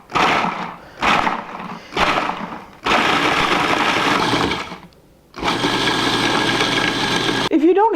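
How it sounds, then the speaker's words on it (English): Cuisinart food processor pulsing chocolate wafer cookies into crumbs: three short motor bursts, then two longer whirring runs separated by a brief pause, loud and close. "we're just going to pulse them until they're cookie crumbs"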